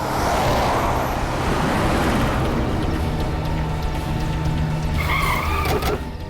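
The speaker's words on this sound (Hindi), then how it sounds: "भगाओ गाड़ी" A car driven fast skids, tires squealing loudly over a roaring engine that fades slightly before another sharp screech near the end.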